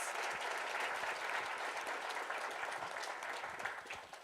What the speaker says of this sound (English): So give them a round of applause as well for doing this.